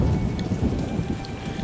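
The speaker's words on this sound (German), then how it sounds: "und es regnet natürlich, was auch sonst" Dense rain pours steadily in The Witcher, a brief rushing wash with a low rumble beneath it and no voices.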